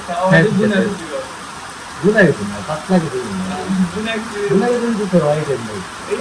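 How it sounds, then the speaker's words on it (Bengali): Rain falls with a constant hiss behind someone talking nearby, the steady wash of drops continuing under the voice. "ভালো লাগতেছে বৃষ্টি দেখে।"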